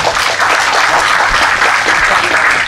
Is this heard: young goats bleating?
no